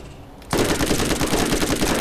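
A gun in the Borderlands video game fires a sudden sustained burst of rapid, loud gunfire with an explosive, fiery crackle after a brief quiet start.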